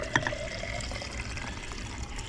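Thin hydraulic steering fluid pours and trickles steadily into a boat helm, a soft continuous gurgle with a faint clink at the start.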